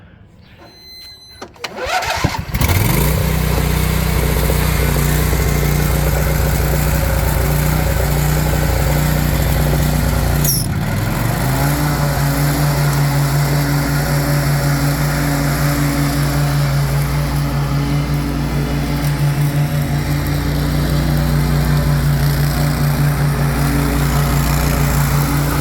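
A 2007 Husqvarna riding mower with a 48-inch deck cranks and catches after a couple of seconds, then runs loud and steady up close with a constant drone, a brief squeal and dip partway through.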